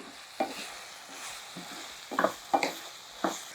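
Bottle gourd (sorakaya) fry cooking in a pan, a low continuous sizzle with a few close scraping stirs of a spoon against the pan.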